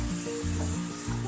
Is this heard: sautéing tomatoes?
yes